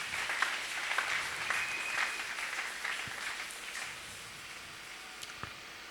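Members of a church congregation at a French-language worship service break into warm applause for the Lord, with dense clapping that slowly tapers off into a few scattered claps and some rustling.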